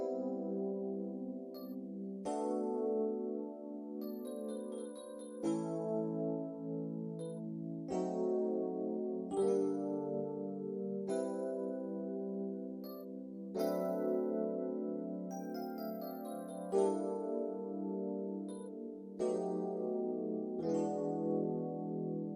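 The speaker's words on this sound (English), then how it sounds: "So the chord progression is gonna sound like this." Slow R&B-style chord progression played in FL Studio at 85 BPM, a sequence of sustained strummed-sounding chords changing every couple of seconds, clean and alone.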